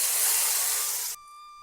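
Tempering for a lentil payasam gives a short, loud sizzling hiss that stops abruptly after about a second, leaving near silence.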